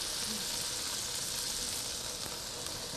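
Meat seasoned with a rotisserie-style rub sears in a hot pan, giving a loud, steady, close sizzle that runs without a break.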